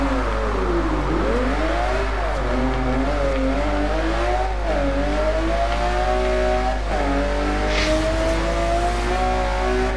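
In Forza Horizon 2, a car engine revs hard through a run of corner drifts. Pitch swoops down and up as it slides and recovers, with a steady high-revving drone throughout and a brief tire squeal near the end.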